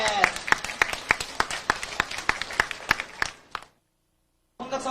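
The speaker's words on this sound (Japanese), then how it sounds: "大きな拍手お願いします。" A concert crowd at a Rockman 10th anniversary event claps steadily with a scattering of sharper individual claps. The applause stops, there is a moment of silence, and then a voice begins speaking.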